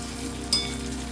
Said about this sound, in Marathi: हे देखील आता आपण परतून घेऊया.